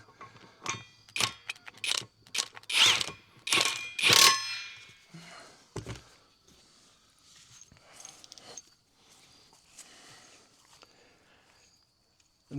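A ratchet snugs the wheel bolts on a tractor during wheel widening: a quick run of sharp metallic clicks and clanks up close, easing into quieter clinks and handling sounds.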